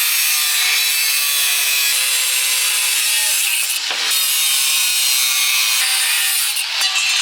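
A mild steel sheet is cut into roughly six-inch-wide pieces with a continuous, harsh, bright grinding hiss up close, briefly dipping once partway through.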